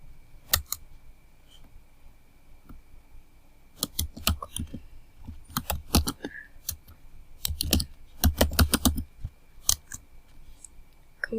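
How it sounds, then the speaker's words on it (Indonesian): A command is typed on a computer keyboard while configuring a network switch: sharp key clicks come in quick bursts separated by pauses, close and crisp, with a faint steady hum behind and no talk. "Jadi di sini kita ketikkan perintah"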